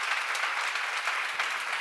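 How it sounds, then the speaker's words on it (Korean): A church seminar congregation applauds loudly, a dense continuous clatter of many hands close and even throughout the brief burst, with no speech over it. "박수 세게 쳐요."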